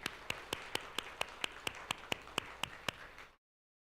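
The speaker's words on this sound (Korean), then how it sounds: "우리 승연자매 박수로 한번 격려해 주시죠" A church congregation claps for a woman during a Sunday worship service, a steady run of about a dozen evenly spaced, sharp claps in a reverberant hall that stops abruptly.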